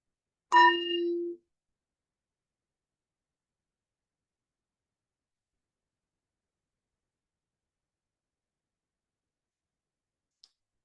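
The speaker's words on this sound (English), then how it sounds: "with the fading of the sound of the bell, that's our invitation to let go of this process of arriving" A single meditation bell struck once, its clear ringing tone sustaining briefly before fading into silence, with only a faint tiny click much later.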